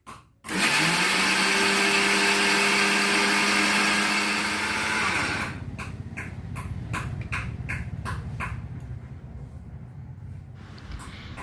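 A mixer grinder grinds roasted grain into sattu flour with a loud, steady whir that runs for about five seconds, then cuts off, leaving quieter intermittent rattles and taps.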